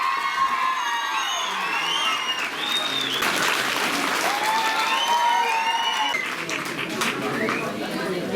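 An audience at a school science outreach event in Gua claps steadily while children cheer, shout and chatter over the applause, creating a lively, loud crowd sound throughout.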